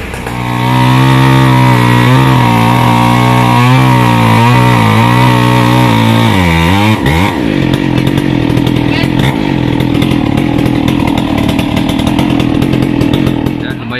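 A chainsaw revs loudly, its pitch rising and falling, then bites into mango tree roots with a sustained gritty roar; voices are faintly present beneath.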